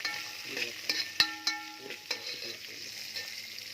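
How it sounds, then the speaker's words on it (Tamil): Onions sauté in a pan for a fish curry, with a soft sizzle and irregular clinking scrapes of a metal spoon stirring against the pan, close and fairly quiet. "வெங்காயத்தை நல்லா வதக்கணும்."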